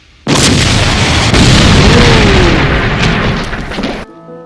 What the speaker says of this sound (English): The fact that he used his cigar to freaking light a cannon